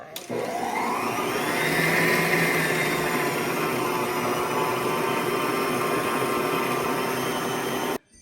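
An electric mixer whirs steadily as it beats rich vegan chocolate brownie batter, a loud continuous motor drone that starts abruptly, holds for about eight seconds, then cuts off.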